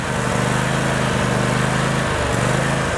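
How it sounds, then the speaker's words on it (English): A handheld lawn mower runs steadily up close, its engine a loud continuous drone with a slight wavering pulse and brief dips in pitch, no voices over it. "this is the handheld lawnmower"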